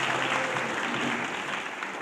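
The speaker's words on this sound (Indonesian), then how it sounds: "Mana tepuk tangannya?" Applause from an audience gathered at a school morning assembly, a steady even wash of clapping sustained from start to finish.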